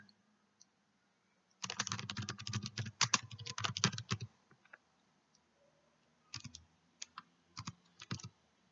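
Computer keyboard typing while entering text in Photoshop: a dense, fast burst of keystrokes for about three seconds, then a few sparse, separate clicks after a pause. The keys sound close and crisp, with no talking.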